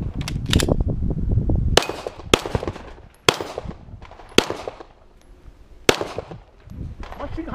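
Guns fire outdoors in Norco: about seven sharp, loud reports at irregular intervals, each with a brief ringing tail, and voices murmur between the shots.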